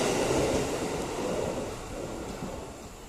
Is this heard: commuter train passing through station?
yes